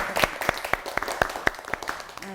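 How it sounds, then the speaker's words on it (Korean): Small church congregation gives a brief round of applause, a handful of distinct, evenly spaced claps sounding fairly near and quiet, ending with a faint voice. "박수 한번"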